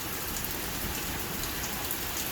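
Heavy rain pours steadily during a thunderstorm, a dense continuous hiss of drops on surfaces with no thunder or voices, even and unbroken throughout.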